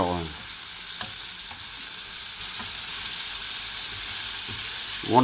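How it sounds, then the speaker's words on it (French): Two onions in four spoonfuls of olive oil sizzle gently in a pan over low heat, a steady close hiss with a few faint stirring knocks and a brief voice at the start. "2 oignons et 4 cuillères d'huile d'olive. Et là, je vais les faire suer"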